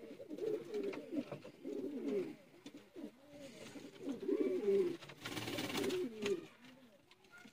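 Sialkoti pigeons coo repeatedly in bursts of soft, throaty calls, overlapping and continuing throughout, fairly near with some background clatter.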